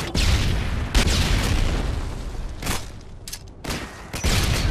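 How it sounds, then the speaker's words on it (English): A stun grenade going off in Modern Warfare 2 on the Quarry map, with loud broadband bangs at the start and again near the middle and end, set among dense continuous gunfire and battle noise. "Tossing stun grenade."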